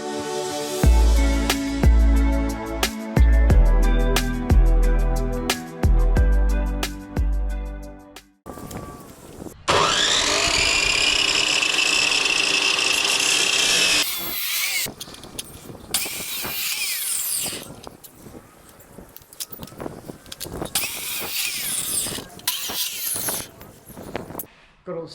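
A power saw cuts steel pieces for a workbench. Sharp rhythmic bursts and whines come first, then a sustained high screeching cut, followed by scattered clanks and handling noises, all close and loud.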